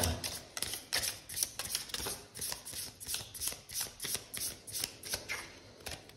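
Tarot cards being shuffled and drawn, a rapid steady riffling and flicking in repeated bursts close by, with no talk over it.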